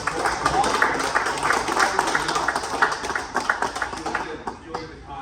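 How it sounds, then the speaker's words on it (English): A round of applause from an audience at an outdoors talk at an Orvis store, steady clapping that thins out toward the end, with speech over it. "let's give a round of applause"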